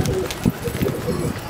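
Pigeons coo softly at a rooftop Gola pigeon loft, a few low, close calls rising over steady background noise in a short burst.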